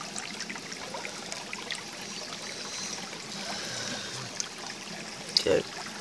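Steady, soft trickle of flowing creek water running throughout, with a brief louder splash or bump near the end.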